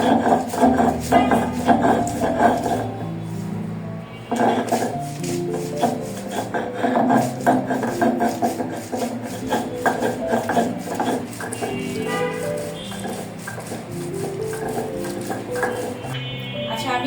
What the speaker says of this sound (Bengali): এখানে হচ্ছে থানকুনি পাতা নিয়েছি আমি তো এইটা আগে আমি একটু বেটে নিব